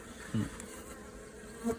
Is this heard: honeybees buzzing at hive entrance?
yes